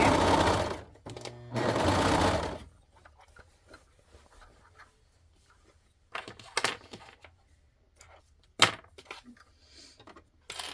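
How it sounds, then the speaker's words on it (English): A serger with its knife off runs two short bursts of fast overlock stitching on boxer fabric and elastic, loud and close at the start, followed by quieter handling clicks and taps. "the knife is off on the serger"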